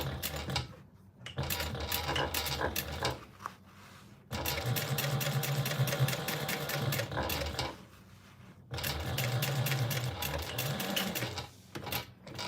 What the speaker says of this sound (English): we're gonna top stitch this other side